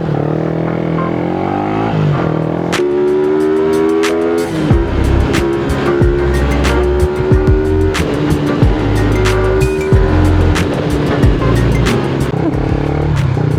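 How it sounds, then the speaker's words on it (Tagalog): Congested road traffic on Mindanao Avenue heading toward NLEX, a loud continuous rumble of car and motorcycle engines idling and revving close by, with horn-like tones and passing vehicles. "Traffic na talaga dito sa Mindanao Avenue mga tol, papasok ng NLEX"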